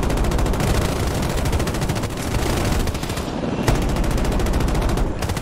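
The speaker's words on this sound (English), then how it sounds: "Where are we being shot from?" Rapid automatic gunfire crackles in Battlefield 2042, dense repeated bursts at close range, loud and sustained with a few sharper single shots standing out.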